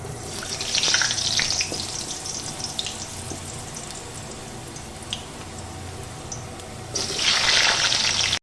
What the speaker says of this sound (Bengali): এবার আমি ওই তেলের মধ্যে দিয়ে দিচ্ছি আলু